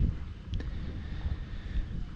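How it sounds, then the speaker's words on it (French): Steady outdoor wind buffeting a microphone, a low rumbling roar that rises and falls for the whole stretch, with no voices. "Il y a toujours un peu de vent."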